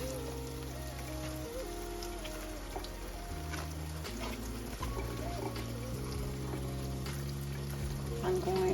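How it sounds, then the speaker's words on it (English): Water runs and patters as collard green leaves are rinsed one by one, a soft steady splashing that sits beneath louder background music. "I go through each leaf and rinse it off thoroughly."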